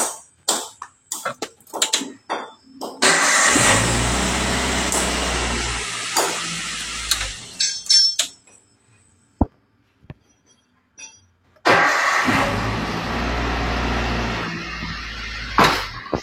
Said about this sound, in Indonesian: Tahap terakhir kita coba tes ya, kita coba tes hidupkan mobilnya.